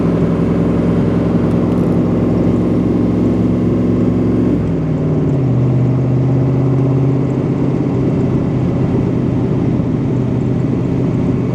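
A Factory Five Racing Cobra Mark IV 347FI with a five-speed manual Tremec transmission is being driven. Its loud, steady engine drone runs throughout, and the pitch drops partway through as it shifts. No one speaks.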